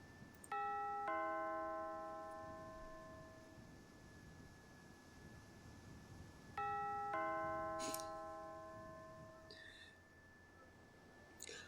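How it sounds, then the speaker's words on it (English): A two-tone ding-dong doorbell in the point-and-click game The Last Time rings twice, each chime ringing out and fading slowly over a quiet background, with faint knocks after the second ring. "Nice doorbell."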